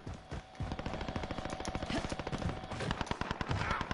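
Rapid automatic gunfire in the video game Warzone, a steady stream of sharp, evenly spaced shots lasting several seconds, fairly distant and slightly muffled, with a short pause near the start.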